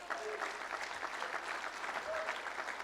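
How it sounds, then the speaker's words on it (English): Faint applause from an audience at an athletics hall of fame induction ceremony, a brief steady patter of clapping heard from a distance. "We got to give Coach Pica a round of applause"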